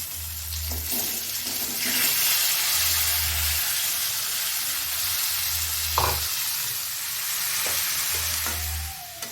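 Indian gooseberries frying in mustard oil with turmeric in a kadai, a close, steady sizzle with stirring scrapes, plus a low hum that pulses on and off at intervals.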